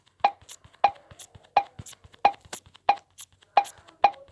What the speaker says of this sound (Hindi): इसकी पॉप की आवाज़ बहुत अच्छी है, मुझे अच्छी लगी।